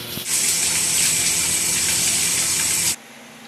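A shower bursts on and runs in a loud, steady hiss of spraying water for nearly three seconds, then cuts off abruptly, leaving a quiet room hum.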